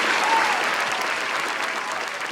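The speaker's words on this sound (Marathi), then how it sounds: "एकदा जोरदार टाळ्या झाल्या पाहिजे मॅडमसाठी" An audience at a stage awards ceremony claps continuously, a dense, even wash of applause that fades slightly toward the end.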